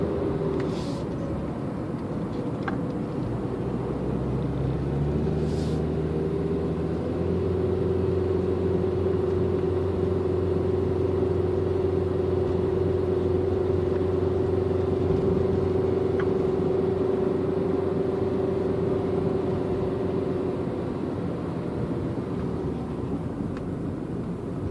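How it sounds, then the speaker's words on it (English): A small four-cylinder car engine labors and bogs down while climbing a ridge, a steady low droning rumble with a sustained strained tone, heard from inside the car, continuous and fairly loud. "You hear my little 4-cylinder bogging down going up this ridge."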